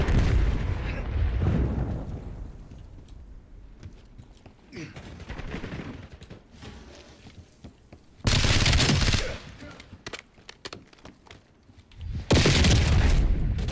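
Rapid SMG gunfire in a video game, bursts of automatic fire repeating throughout, with loud, dense volleys near the end and quieter stretches of shooting between them.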